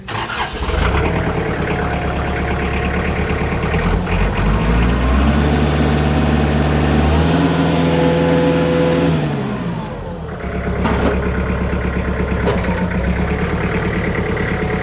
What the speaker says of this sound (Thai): เดี๋ยวเราลองมาสตาร์ทเครื่องยนต์นะครับฟังเสียงเครื่องยนต์กันดู